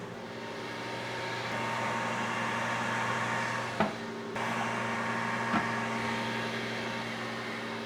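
A food dehydrator drying homegrown banana slices for chips gives off a steady, even mechanical hum and fan whir with no pauses. Two small clicks break in near the middle.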